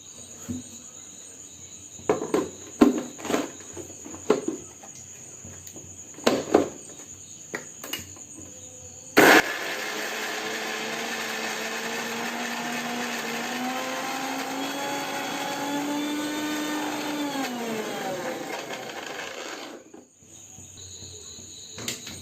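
A few scattered taps and clicks come first, then a mixer grinder roars on, grinding green chillies dry into a paste without water. Its loud whine rises in pitch for about ten seconds before stopping abruptly.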